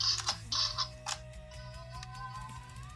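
A short electronic toy chime from a Memorial Edition Zyuranger Dino Buckler returning to standby, with a few quick bright bursts, followed by a rising tone that fades out, close and moderately loud.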